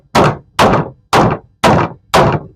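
Five loud, evenly spaced thunks from a hammer or stapler knocking staples down into a wooden stretcher frame with canvas pulled over it, close and without talk.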